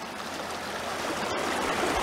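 A rocky creek streams steadily with a constant broadband rush of flowing water, close and fairly loud throughout, with no voices.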